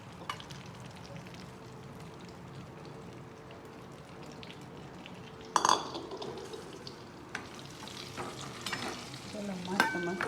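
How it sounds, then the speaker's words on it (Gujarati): Stuffed red chillies frying in a pan with a soft continuous sizzle, a spoon scraping and stirring at intervals, with louder clinks of utensil against pan toward the end. "હાલો આ પાછા શેકાવા નાખી દેવાના છે."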